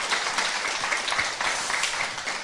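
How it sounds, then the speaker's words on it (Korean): Audience applause welcoming poet Moon Jeong-hee at a Rock Poem literary talk event, a thick continuous patter of many hands filling the room at a steady, moderately loud level. "박수 한번 주시기 바랍니다."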